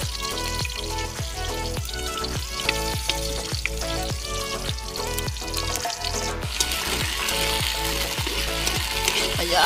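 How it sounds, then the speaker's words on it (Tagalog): Garlic and onion sauté in a pan under a constant sizzle, with quick, regular stirring strokes scraping the metal in a steady rhythm close up. Nobody talks. "magigisa na tayo ng bawang sibuyas"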